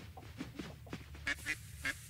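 A duck in the farming game Coral Island gives three short, clear quacks near the end, following fainter low bird calls, fairly close with no talk.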